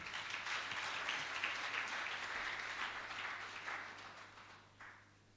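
Church congregation applauding during a Sunday worship service, a sustained wash of clapping from many hands that gradually thins and fades toward the end.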